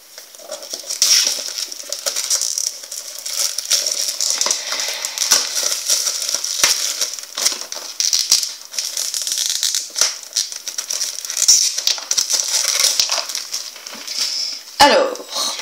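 Plastic packaging on a DVD is torn and peeled away with continuous close crinkling and crackling, ending in a sharp rip.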